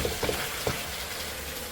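Chicken and thick mushroom stir-fry sizzling steadily in a hot pan as the liquid cooks off, a loud continuous hiss broken by a few light stirring scrapes early on.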